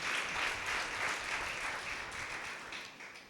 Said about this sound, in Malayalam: നമുക്ക് എല്ലാവർക്കും കൂടെ ആൻറ്റിക്ക് ഒരു ബിഗ് ക്ലാപ്പ് കൊടുക്കാം.